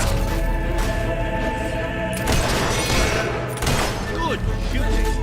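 Fable III gunfire in a dense battle: continuous rattling volleys and scattered cracks under steady game music and voices, with the firing thickening at moments.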